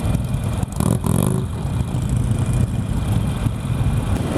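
A Harley-Davidson Iron 883 motorcycle being ridden, the engine rumbling loud and steady with a brief throttle surge near the start, then an even mid-pitched drone, no talk.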